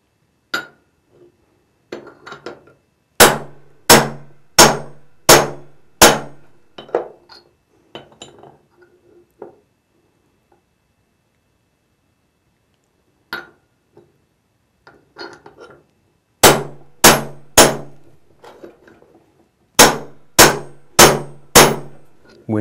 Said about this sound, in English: Drive the bushing in. Stop frequently and check the distance between the bushing and the ledge.